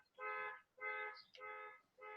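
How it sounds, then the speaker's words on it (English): A car alarm sounds near a house: a steady, repeating electronic honk pattern in even pulses, moderately distant and fairly faint, with no talking over it. "An alarm's going off by my house."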